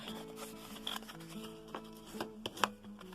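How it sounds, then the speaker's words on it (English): Paper pieces for a pop-up card being burnished along their score lines, soft faint rubbing and scraping strokes with a few small taps, close and quiet. "burnish along those score lines"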